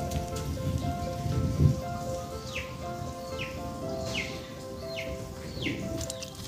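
Steady rain falling around a local market in Thailand, a constant patter on surfaces with several faint bird chirps over the top.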